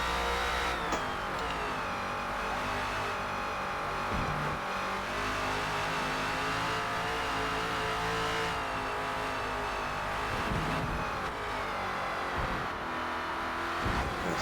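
Engine of a Ford Falcon FG X race car at Road Atlanta in a racing video game, a loud, continuous roar that rises and falls through gear changes and lifts, close and dominant throughout.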